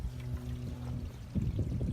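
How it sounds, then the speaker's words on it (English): Water pours out of an RV gray tank on a 2016 Coachmen Freedom Express Liberty Edition travel trailer, a steady close gushing flow that swells louder toward the end. "once everything that's in the gray tank pours out"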